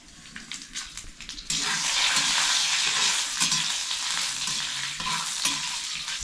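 Whole black pepper, cumin, a torn bay leaf and star anise hit hot oil over a wood-fired stove for makul masala, bursting into a loud, steady sizzle after a quieter opening stretch of clatter.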